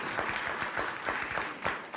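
A TV studio audience claps in a rhythmic burst, heard as played back from a broadcast. The claps come in distinct, fairly even beats at moderate volume, with no speech over them.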